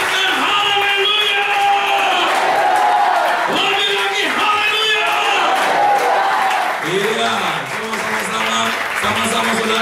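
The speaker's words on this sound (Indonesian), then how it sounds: "Ayo, berikan tepuk tangan yang mulia buat Tuhan." A church congregation at a Sunday service applauds and cheers loudly and steadily, with whoops and shouting voices layered over continuous clapping throughout.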